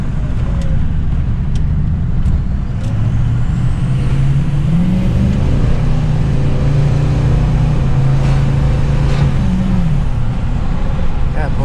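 A Ford F250 pickup with a bigger turbo accelerates hard: a loud, close engine drone that climbs in pitch, dips at a shift, climbs again, then drops back, over constant road rumble.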